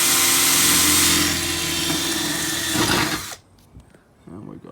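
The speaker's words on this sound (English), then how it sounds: "Now I'll put my drill bit up against it." A power drill bores a pilot hole in a Toyota Hilux 3.4L V6 body panel for a snorkel install, a loud steady whine that cuts off abruptly, followed by quieter handling noises.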